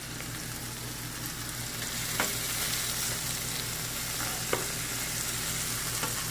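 A keto quesadilla frying in a pan gives a steady, close sizzle with a low background hum and a few faint clicks, no voices.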